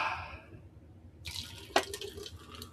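A drink is poured into a tumbler holding ice: quiet at first, then a close liquid stream begins with a sharp clink of ice partway through, without speech.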